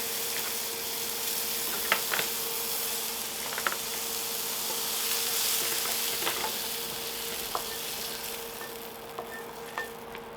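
Mushrooms frying in a pan for a steak and ale pie, a steady soft sizzle with a few faint clicks and stirring scrapes, moderately quiet and with no talking.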